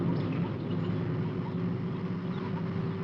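Engines of the repaired Supercar running up, a steady, even droning hum with a low tonal whine that holds unchanged throughout, with no voices.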